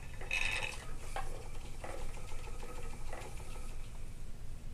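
A treadle spinning wheel whirs and clicks steadily while cable yarn is spun, a soft continuous mechanical hum with light rhythmic knocks from the treadle, close by and with no talking.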